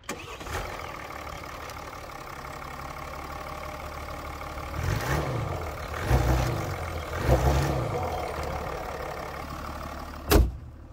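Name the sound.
Mercedes S 400d diesel engine revving, heard outside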